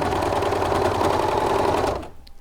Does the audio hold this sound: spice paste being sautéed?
no